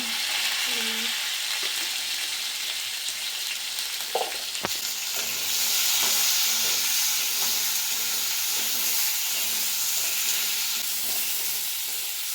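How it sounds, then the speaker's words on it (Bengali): Potatoes seasoned with turmeric fry in a pan for a village-style snail curry, giving a loud, continuous sizzle with occasional clinks and stirring sounds. Nobody talks. "একটু হলুদ দিয়েছি আলুটা যাতে খড়ো খড়ো করে ভাজা হয়"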